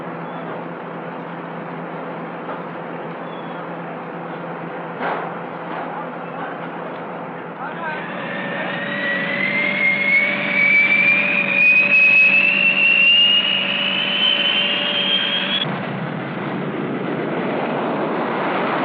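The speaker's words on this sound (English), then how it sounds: "Also part of this massive strike force is the B-58." Convair B-58 jet bomber in flight, a loud engine roar whose whine climbs and swells in the middle before dropping away, heard on an old Air Force film soundtrack.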